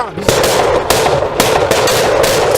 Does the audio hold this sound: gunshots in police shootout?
yes